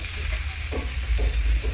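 Potatoes and capsicum stir-fried in spice masala, a steady close sizzle with a few soft stirring scrapes, no voices.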